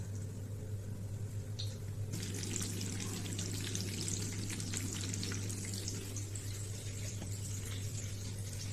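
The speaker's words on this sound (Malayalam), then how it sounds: "അങ്ങനെ സുഖിയും കിടന്ന് തിളയ്ക്കുന്ന കണ്ടു" Steady crackling sizzle of sweet suhiyan fritters frying in hot oil, dense and continuous, with a low constant hum underneath and no talking.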